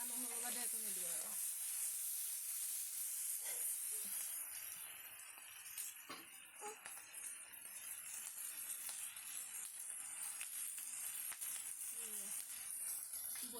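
Food frying in a pan over a fire in a home kitchen makes a continuous hissing sizzle with scattered pops and rattles, and faint voices come through underneath.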